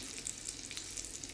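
A tempering of mustard seeds, asafoetida, curry leaves and green chillies sizzles in hot oil, a faint, steady crackling hiss with small pops throughout.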